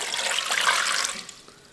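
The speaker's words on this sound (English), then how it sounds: "I'm going to start by adding my water" Water pours steadily into a food processor bowl, a close continuous splashing rush that tapers off near the end.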